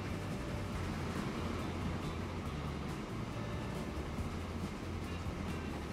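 Low rumbling train rolling steadily along a double-tracked line in the video game Transport Fever, a constant moderate hum with no voices.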